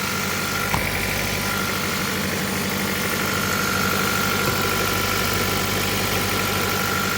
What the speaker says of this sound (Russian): И двигатель нормально работает.